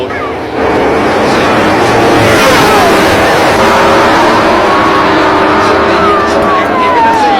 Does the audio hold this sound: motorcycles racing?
yes